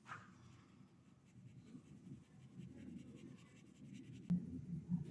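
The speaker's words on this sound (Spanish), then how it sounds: "Aplico el lápiz, el borrador" A pencil drags across paper while a portrait is drawn, making a soft, close, continuous scratching that is faint and steady, with a small tap near the end.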